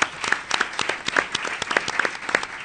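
Audience at a round table with prison inmates in Andalusia breaking into applause, a dense burst of many hands clapping at close to moderate distance, steady for a few seconds.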